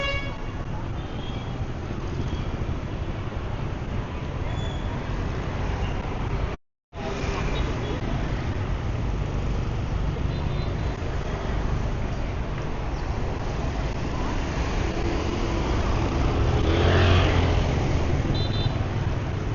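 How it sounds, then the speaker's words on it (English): Dense street traffic in Saigon, Vietnam, forms a constant roar of motorbike and car engines with scattered horn toots. The din is steady and close, broken by one brief dropout. "traffic in Vietnam is a constant negotiation"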